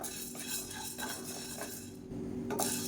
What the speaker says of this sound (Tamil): உளுந்து நல்லா வறுபட்டுருச்சு